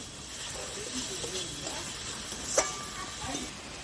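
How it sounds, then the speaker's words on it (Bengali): Onion paste sizzles and hisses steadily as it fries in oil for a soal fish curry, a continuous close crackle with occasional stirring clinks and one sharp knock. "এবার পেঁয়াজ বাটাটা দিয়ে দিচ্ছি দিয়ে ভালো করে কষিয়ে নেবো"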